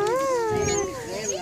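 A dog whimpering in a high, wavering whine that rises and falls, close and clear for about a second and a half.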